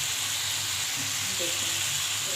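Water added to hot fish oil for a bitter gourd and potato curry makes a steady, close frying sizzle that continues throughout, while a voice speaks briefly over it.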